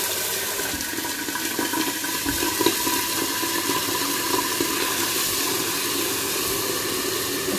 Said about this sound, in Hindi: अब हम इसमें थोड़ा पानी डाल के इसका रंग निकालेंगे।